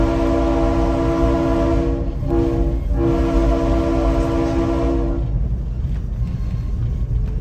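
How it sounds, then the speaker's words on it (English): A loud, chord-like five-chime locomotive air horn blares in long sustained blasts with a brief break, then cuts off, leaving a low rumble. "you just heard the 5-chime air horn of our locomotive"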